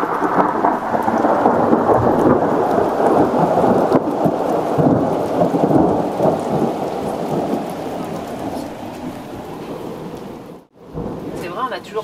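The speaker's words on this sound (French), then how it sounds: "Non, on va pas couper, va y avoir un orage." Deep thunder rumbles on and on through a thunderstorm, with steady heavy rain hissing underneath and a brief sharp dropout near the end.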